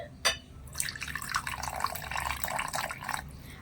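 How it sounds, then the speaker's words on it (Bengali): Water trickling and splashing into a bowl of flour and vegetable oil while making dough, a short near pour after one brief tap, faint and without talk. "এবারে মধ্যেখানে দিয়ে দেব দুই টেবিল চামচের মতন সাদা তেল আর দিয়ে দিচ্ছি জল"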